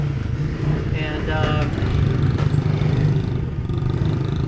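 Small 50cc motorcycle engine revving as a rider gives light throttle during a running start at a race clinic, a steady buzzing drone under nearby talk.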